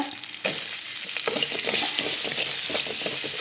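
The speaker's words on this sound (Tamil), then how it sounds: "வெங்காயம் பச்சை மிளகா தாளிப்பேன்." Onion and green chillies tempering in hot oil for sundal, a steady close sizzle and crackle with a sharp burst near the start and stirring throughout, no talk.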